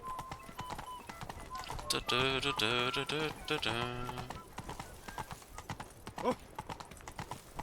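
Roach, a horse in The Witcher 3 video game, gallops with a rapid, steady clip-clop of hooves, a whinny-like call rising in the middle and a brief exclamation from a voice over it.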